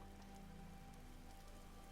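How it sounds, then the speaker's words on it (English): Rain in the video game Vintage Story, a steady hiss of drops pattering on surfaces, even and continuous with no talking. "Oh, and we're going to get some rain."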